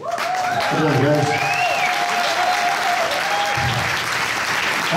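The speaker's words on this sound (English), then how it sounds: "Please give a big round of applause to this fantastic band." A crowd applauds a band at a show in Luxembourg, 2022: dense, loud, steady clapping fills the whole stretch, with a few cheers and voices rising through the roar.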